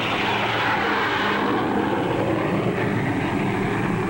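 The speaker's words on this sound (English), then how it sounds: "Huge airliners carry into the sky each day an ever larger tonnage of cargoes and passengers." Large airliner engines roar in a continuous, loud, broadband drone with a steady low hum beneath it and no voices.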